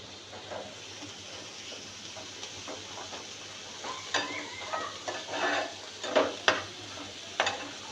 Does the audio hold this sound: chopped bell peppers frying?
yes